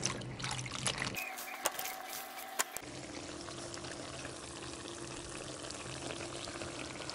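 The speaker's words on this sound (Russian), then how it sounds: "буду промывать баклажаны" Water pours and trickles steadily over eggplants being rinsed in a sink, with a brief clatter and splashing partway through.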